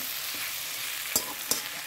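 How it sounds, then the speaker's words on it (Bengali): Onion and green chillies frying in a pan, a steady soft sizzle with two sharper crackling pops, no voices. "পেঁয়াজ আর কাঁচা লঙ্কা দিয়েছি, ভালো করে একটু ভাজা হবে"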